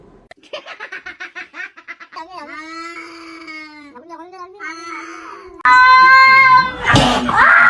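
A kitten meows and cries again and again in close, loud, high-pitched calls, with a burst of louder, noisier crying toward the end.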